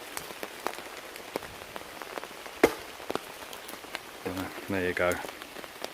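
Rain patters on a tent pitched under a tarp during a wild-camping rain storm in woodland, with irregular close drips and thuds on the fabric and a brief spoken voice near the end.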